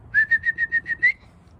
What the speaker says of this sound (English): I don't have grain with me, but I'll whistle.